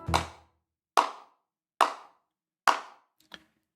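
Character clapping in a Honkai Impact 3rd cutscene: four sharp, evenly spaced claps about a second apart, then a fainter final tap, clear and close with silence between.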